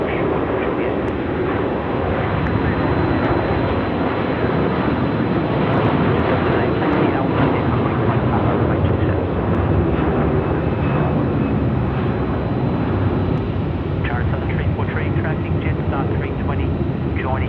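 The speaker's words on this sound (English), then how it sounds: "Now, China Southern, where are you? You're slowly taxiing now" China Southern airliner slowly taxiing at Melbourne airport at night, a steady broad roar of jet engines filling the whole stretch at a constant loud level, with a voice talking over it.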